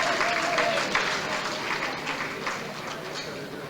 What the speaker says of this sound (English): Dr. McBean, give him a round of applause.